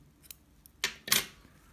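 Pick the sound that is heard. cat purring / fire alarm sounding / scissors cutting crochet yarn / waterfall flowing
scissors cutting crochet yarn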